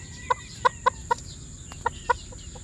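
Six or seven short, sharp chicken clucks spaced irregularly over a couple of seconds, close by, against a quiet background hum.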